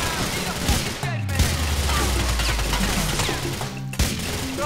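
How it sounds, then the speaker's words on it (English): Gunfire erupts in a GTA video game, a dense rapid fusillade of shots and impacts running throughout, with a few louder cracks and a low rumbling swell beneath; a voice occasionally comes through over the shooting. "here comes the shooting"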